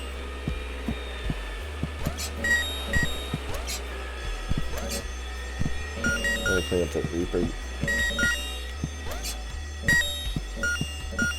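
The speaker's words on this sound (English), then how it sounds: "The ear-splitting sound was the fire alarm." A fire alarm rings shrilly in the video game Horace, its steady electronic tones repeating throughout against a bed of game music and clicks. A person talks over the top.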